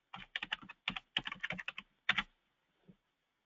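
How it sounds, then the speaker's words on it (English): Quick bursts of keystrokes on a computer keyboard as dates are typed into an Excel spreadsheet: clusters of close, crisp clicks, a pause, a final pair of taps, then one faint tap. "I'll simply type in the first couple dates I want to start with."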